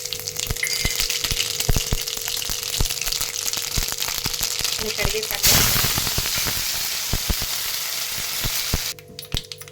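Tempering spices sizzle in a pan of heated oil, a steady loud frying hiss dotted with sharp crackles that swells into a brief louder burst midway and drops off near the end.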